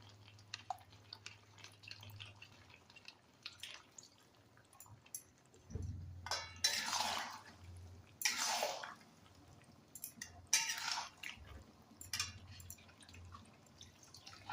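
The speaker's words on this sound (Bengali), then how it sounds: "ফ্লাওয়ার ভেজানো জলটা আস্তে আস্তে দিয়ে দিচ্ছি" Flour-soaked water is poured slowly over fried fish in a pan while cooking Chinese-style chilly fish: a low background hum gives way to several bright splashing, dripping bursts of liquid close by.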